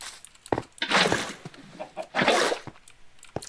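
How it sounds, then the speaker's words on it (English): A Minecraft chicken clucks in a few short bursts, loud and close, with brief gaps between the calls. "There's a chicken!"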